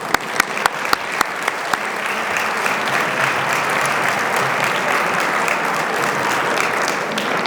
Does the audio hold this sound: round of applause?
yes